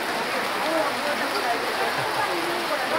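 Rain pours down steadily at Namdaemun in South Korea, making a constant dense hiss of drops hitting surfaces with no pauses.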